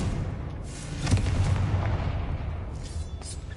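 Blasting fire spell cast in a fantasy wizard game, a dull booming burst around the middle over a low rumbling game ambience, followed by fainter crackling debris.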